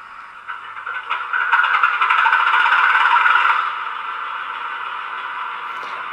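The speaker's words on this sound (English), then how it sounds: "I know you want to see some train action, so I'm departing now." A model train on a Roco Z21 DCC layout departs from a staging yard with a steady whirring rattle that swells and holds, then settles to a quieter running hum, close and alone.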